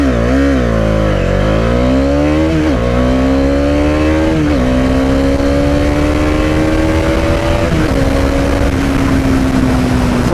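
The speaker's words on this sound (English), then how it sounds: "acceleration test on the Dominar 400 2021 BS6 version" A 2021 Bajaj Dominar 400 BS6 motorcycle launches hard in first gear, its engine note climbing steeply in pitch through loud repeated revving surges, with no talk over the continuous close roar.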